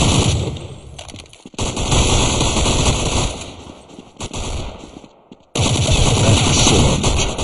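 Rapid, loud automatic gunfire in Counter-Strike, near and dense in sustained bursts with a few short gaps, dominating the mix with no talking.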